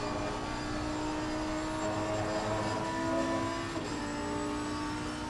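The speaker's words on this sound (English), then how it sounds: "we'll just have to turn down the unfathomably loud sound of that V10 engine" V10 racing car engine at full power around Silverstone toward Copse Corner, in a Season 8, Round 5 race: a loud, steady, close droning roar with a harmonic whine that holds throughout, with no speech.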